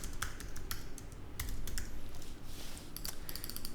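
Fingers type on a computer keyboard, a quick, close run of light clicking keystrokes with brief pauses and a soft background hum, no speech.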